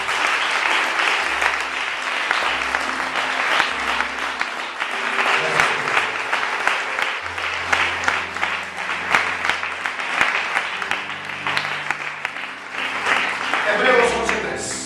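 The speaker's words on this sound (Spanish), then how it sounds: "Aplaudamos al Dios de la gloria." A church congregation claps loudly and steadily for about fifteen seconds, with a low sustained organ or keyboard tone underneath and some voices mixed into the applause.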